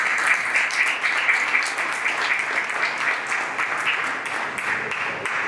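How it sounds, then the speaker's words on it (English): Steady, dense applause from an audience at a Baltimore business talk, many hands clapping together in an even, continuous wash at moderate distance, holding at a constant level throughout. "let's give our dear brother, our beloved brother, Brother Jabari, another round of applause"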